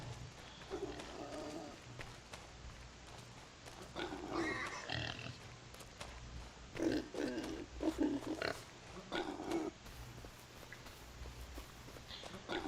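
Pigs in Farming Simulator 25 give short grunts in scattered bursts over a low steady background hum, with footstep-like sounds mixed in; no voices.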